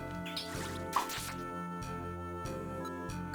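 Water Pulse attack in Pokemon Mystery Dungeon: Explorers of the Sky, a short burst of watery, bubbling effect tones over steady looping game music with rhythmic bass notes.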